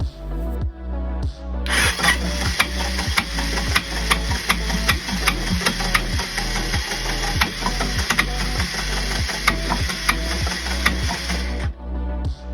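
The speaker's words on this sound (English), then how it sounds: "I'm going to just show you a video of what it sounds like when it's starting. It's not even turning over the cam." A broken quad's engine cranks without turning over the cam, giving a loud, steady mechanical chatter of rapid repeated clicks and knocks that runs for about ten seconds, then cuts off abruptly.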